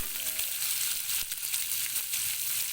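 Onions sizzle and crackle in hot oil, a steady bright frying hiss with small pops, close up and continuous, as shakshuka is started.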